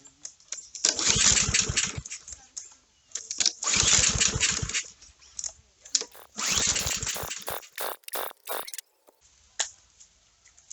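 A Honda GCV 160 small engine is pulled three times in bursts that sputter and catch briefly between short gaps, with some clicks and handling noises nearby.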